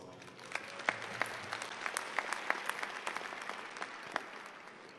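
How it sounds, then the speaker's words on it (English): A graduation ceremony audience claps, the applause fairly distant and thin, made of individual sharp claps that rise and fall irregularly across the moment. "Give yourselves applause."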